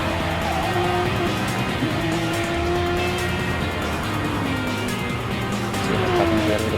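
Race cars lapping the Nürburgring in an online 24-hour racing video game with twenty players, a loud continuous engine drone with rising and falling pitch as cars accelerate, shift and pass close by.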